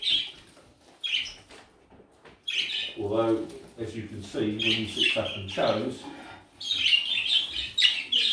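Birds chirping and calling at a bird show, short bright tweets and squawks scattered between a man's speech, moderately close.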